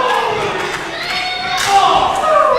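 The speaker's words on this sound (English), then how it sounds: "Lopez firing back with chops" Chest chops land between wrestlers at a Fake Fight Club stunt-studio show: a few sharp slaps ring out over a loud, roaring crowd that swells into cheers, with a commentator talking throughout.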